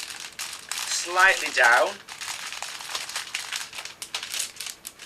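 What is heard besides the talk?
crinkling cellophane being handled for flower wrapping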